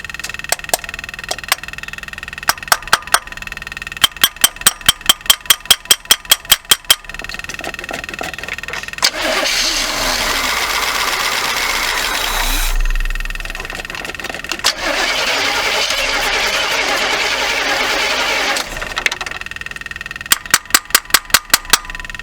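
A 1979 Chevy G20 van with a carbureted engine is cranked in rapid clicking bursts several times, then catches and runs roughly for a few seconds on two tries, close and loud, before more cranking.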